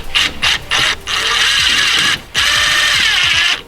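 A power driver runs two screws into a garage door's bottom seal rail in short bursts of whirring and ratcheting, several quick pulses followed by longer sustained runs, close and fairly loud.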